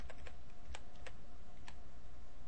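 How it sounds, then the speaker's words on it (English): Several quick keystrokes on a computer keyboard, arrow keys pressed in short irregular bursts during a metal wire modelling task, with faint background hum and no talk. "move it into place with your arrow keys"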